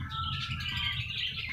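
Pet parakeets (Australian budgerigars) chatter at a bird breeder's place, a continuous busy twittering of many birds at moderate distance with no voices over it.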